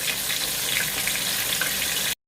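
Marinated, floured chicken thighs fry in hot oil with a steady, dense sizzle and crackle, close and continuous, cutting off abruptly near the end.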